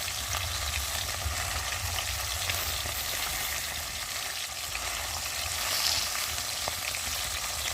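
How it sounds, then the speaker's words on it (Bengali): Tilapia fish fry in hot oil in a pan, a loud, dense, continuous sizzle and crackle that holds steady throughout with no voices. "এদিকে মাছ ভাজা হচ্ছে"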